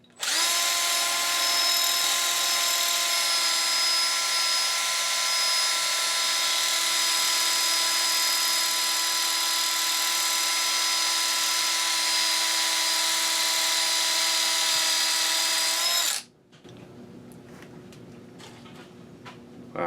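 A part spins on an axle while a Scotch-Brite pad polishes it during parts refurbishing, making a loud, steady, high-pitched motor whine that runs continuously for about sixteen seconds before stopping abruptly, leaving a quieter rumble.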